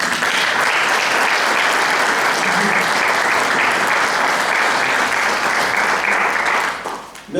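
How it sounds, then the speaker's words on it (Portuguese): An audience at a book launch gives sustained, dense applause for several seconds, loud and even throughout before tapering off abruptly at the end. "peço uma salva de palmas para o Nuno"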